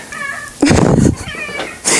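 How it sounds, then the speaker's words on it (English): A pet tortoiseshell cat yowls loudly at a door, one long drawn-out scream followed by a shorter cry, close by and clear with no talk over it. "My cat is screaming at the door."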